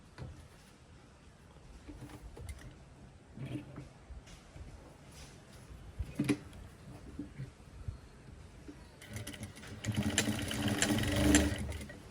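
A sewing machine stitches pieces of a modern top together, a steady mechanical whirring that runs in bursts and grows louder and busier near the end, with faint talk in the background.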